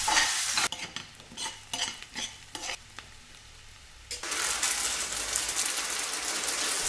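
Chopped onion, crushed ginger and spices sizzling in a pan while being stirred, steady frying hiss with repeated scraping strokes, close and loud, swelling into a denser sizzle near the end.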